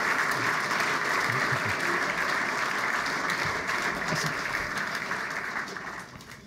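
An audience applauds after a speech, dense steady clapping from a large crowd in a hall, holding strong before fading out toward the end.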